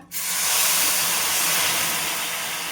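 Water hits a pan of roasting semolina for rava kesari, and a loud, close burst of hissing steam rises suddenly and holds steady.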